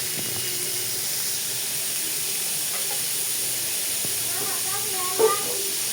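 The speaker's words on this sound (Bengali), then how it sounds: "এখন আমি ডাঁটাগুলো দিয়ে দিচ্ছি।" Vegetable stems go into a pan of fried potatoes and set off a steady, even sizzle and hiss that runs throughout, with a short clatter of stirring near the end.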